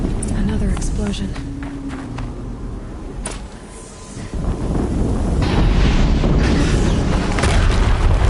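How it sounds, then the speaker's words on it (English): Another explosion in the video game Horizon Zero Dawn, a loud low boom that builds into a sustained rumbling roar like wind, heard amid game sounds and talking. "Another explosion."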